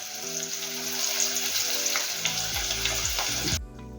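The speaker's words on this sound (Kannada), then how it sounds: "ಇದೇ ರೀತಿ ಎಲ್ಲವನ್ನು ಫ್ರೈ ಮಾಡೋದು." Jackfruit kebabs fry in hot oil with a dense, steady sizzle heard up close over soft background music, cutting off abruptly at the end.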